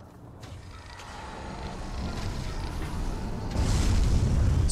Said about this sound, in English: Let's send the rocket on its way.